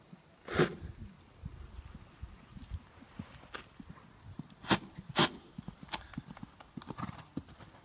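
Hoofbeats from a horse cantering during a show-jumping riding clinic, sharp clip-clop strikes landing in an uneven rhythm at close range, with a few louder thuds and faint background noise.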